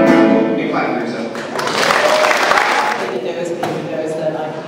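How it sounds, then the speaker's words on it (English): An audience claps together at an opening event, a burst of applause swelling mid-stretch and blending with a crowd of voices and cheering. "Big clap for yourself."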